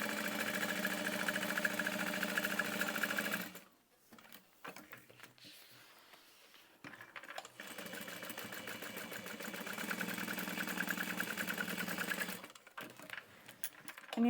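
A sewing machine runs in steady mechanical bursts while stitching over the straps of a small cotton bag with foam in the panels, pausing briefly in the middle before the close, even motor whir resumes.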